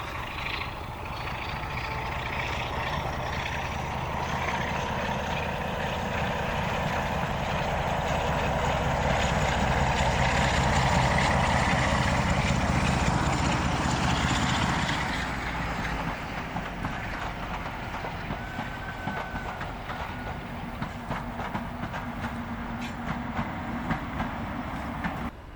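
Class 47 diesel locomotive 47712 works hard on the Severn Valley Railway near Foley Park Tunnel during a summer diesel gala, its loud, throbbing engine swelling to a peak as it passes, then fading to a steady rumble with wheel clatter.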